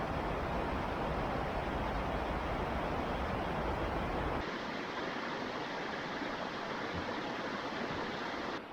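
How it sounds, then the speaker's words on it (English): The wild and scenic Chattooga River in the South Carolina and North Carolina foothills flows in a loud, continuous broadband rush, alone without voices, with the sound thinning partway through as if the listening spot shifts. "The wild and scenic Chattooga River."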